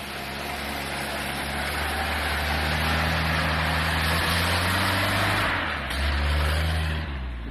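An off-road vehicle on a summer mudding run, engine droning loud and steady up close with rising revs as the wheels dig in, running continuously with no talk.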